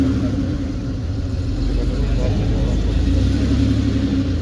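A classic Porsche Carrera 4 runs steadily at a low, even rumble, the engine and exhaust droning continuously at moderate loudness with no sharp revs, close by outdoors on a street in Milan, Italy.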